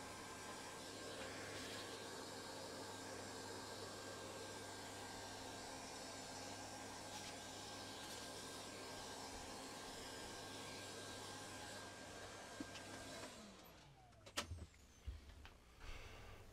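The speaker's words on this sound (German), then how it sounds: "Ich wollte mich nicht gegen den Staubsauger anbrüllen, deswegen habe ich jetzt versucht, in der Zeit nichts zu erzählen." A vacuum cleaner drones steadily at close range while cleaning dust out of a former smoker's desktop PC, then switches off and winds down, followed by a few clunks and handling knocks.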